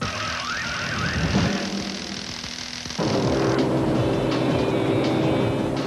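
Cars race in the Dreamcast arcade game Speed Devils, with continuous loud whining engine tones that shift pitch partway through as the cars accelerate, and no talking.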